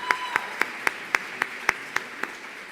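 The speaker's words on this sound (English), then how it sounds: "Another round of applause for Abhi." Audience applause at a 2022 Arangetram dance debut, heard as a slow, even series of about nine single claps at roughly quarter-second spacing over a soft steady background wash.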